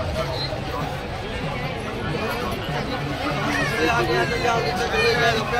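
Dense crowd hubbub fills the evening Mhasa fair in Murbad: a continuous, close wash of overlapping chatter and voices that swells slightly toward the end.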